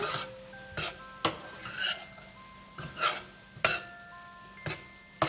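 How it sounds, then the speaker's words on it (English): A spoon stirs paneer bhurji masala in a pan, with a handful of sharp metallic scrapes and knocks against the metal spaced a second or so apart over a soft, faint sizzle, with no talking. "We'll give a quick stir."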